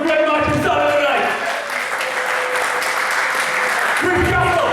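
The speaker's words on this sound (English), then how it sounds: "can we please give Chris Castle a round of applause for a great match on Saturday night?" Applause from a wrestling audience for Chris Castle at a UKW Friday Night Showdown event, a loud continuous wash of clapping that swells at the start and end, with some speech mixed in.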